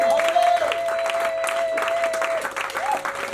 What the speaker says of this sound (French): je veux des acclamations.